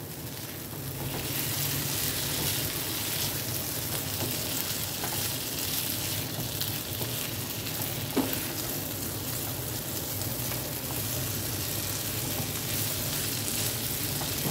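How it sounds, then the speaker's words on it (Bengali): Potato curry sizzles in a pan as ground spices and crushed black pepper are stirred in, a continuous close frying hiss with soft scraping of the spoon throughout, no voices. "দিয়ে ভালো করে মিশিয়ে নেব।"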